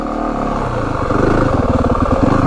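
A 2025 Yamaha WR 450F four-stroke dirt bike engine labors uphill, a loud close rumble that settles into a rhythmic, pulsing chug as the rider climbs.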